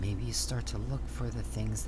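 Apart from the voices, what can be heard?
No everyday noises stand out.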